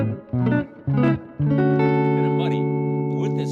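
An electric guitar without its piezo pickup, played through a muddy amp: a few short chords are strummed and stopped, then a chord is struck and left to ring with a thick, dark sustain.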